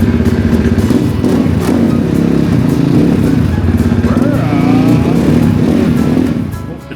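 Off-road motorcycle engine running steadily and loud throughout, with a rising rev toward the middle before the sound tapers off at the end, heard close up with no talking.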